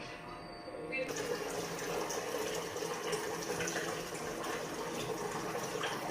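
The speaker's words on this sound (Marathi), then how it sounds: "पाणी हळूहळू थोडं कमी कमी टाकायचं" Water trickles and gushes steadily into a bowl of flour for spinach paratha dough at close range, a soft continuous pouring with faint background noise.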